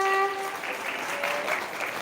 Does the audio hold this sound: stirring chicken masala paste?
no